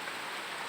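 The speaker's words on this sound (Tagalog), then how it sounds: "Sa bukid mahalagang ulan. Nakakasalo kami." Steady rain falling on a farm during the rainy season, gathering in a collection drum; a continuous, even hiss of downpour close by with no voices.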